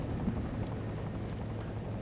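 In a Farming Simulator mod video game, a helicopter gives off a faint, continuous low rotor drone with a steady rumbling texture, alone and without talk.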